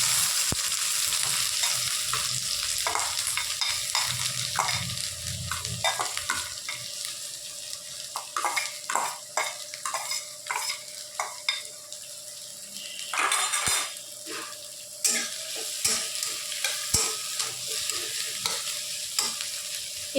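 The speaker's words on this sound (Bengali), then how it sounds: "আমরা এবার দিয়ে দেবো তেলের মধ্যে কেটে রাখা পেঁয়াজ আর লঙ্কার" Chopped onion and chilli frying in hot oil, a continuous sizzle broken by repeated scraping and clinking of a utensil against the pan, growing busier in the second half.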